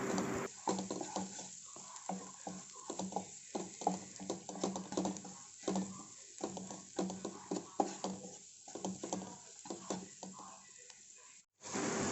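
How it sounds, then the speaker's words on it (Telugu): Turmeric and salt being stirred into a sizzling chicken curry base in a pan, a steady fry hiss with scraping stir strokes throughout, ending in a brief drop to near silence. "ఇప్పుడు అందులోనే ఒక 1/2 టీ స్పూన్ పసుపు, 2 టీ స్పూన్ల సాల్ట్ కూడా వేసి బాగా కలపండి."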